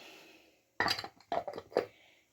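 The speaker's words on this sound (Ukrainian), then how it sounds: "Тепер перемішую хорошенько." Salmon backbone and vegetables stirred in a pan, giving a few close clinks and scrapes of a utensil against the pan in quick succession, with no talking.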